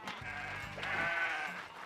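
A goat in the video game Kenshi gives one short, faint bleat over a steady background, with no other sounds around it.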